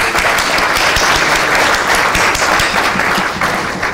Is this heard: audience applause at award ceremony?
yes